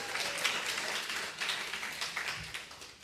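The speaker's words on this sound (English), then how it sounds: "Okay, I'll accept that clapping." A church congregation at a Sunday service claps together, a brief burst of applause from a crowded room that tapers off, fairly faint and without talk.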